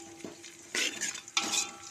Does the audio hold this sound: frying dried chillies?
yes